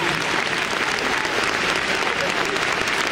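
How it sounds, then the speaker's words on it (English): An audience at Crufts 2011 applauds loudly and steadily after a heelwork-to-music international freestyle dog routine, a dense wash of clapping throughout. "applause"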